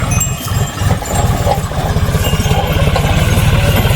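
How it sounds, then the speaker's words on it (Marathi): A loud tractor engine runs close by on a sugarcane farm with a rapid, steady low throb, idling evenly throughout. "बघा का ट्रॅक्टर चालू आहे"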